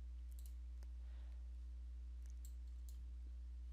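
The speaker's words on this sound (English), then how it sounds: "we're going to go onto our start menu and we're going to left click on settings." A few faint computer mouse clicks on a Windows 10 machine, small scattered ticks over a steady low electrical hum, with no talking.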